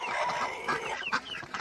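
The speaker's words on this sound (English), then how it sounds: "So the little Americana chicks are getting significantly bigger." Young Americana chicks on a farm, a quick run of bright peeping and cheeping calls, close and fairly loud, with soft clucking mixed in.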